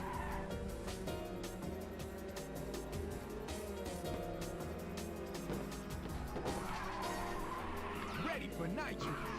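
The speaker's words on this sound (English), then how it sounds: "Doing some pretty long drifts here." Car drifting in the PlayStation Portable racing game Ridge Racer 2, with long sustained tire squeal over a dense engine roar and game music, loud and continuous throughout, with a voice talking over it.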